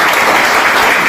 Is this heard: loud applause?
yes